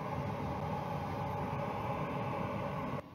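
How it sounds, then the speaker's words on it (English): A steady, faint broadband whir of a vocal booth ventilation fan runs continuously, then drops off abruptly near the end. "I can hear the fan turning on"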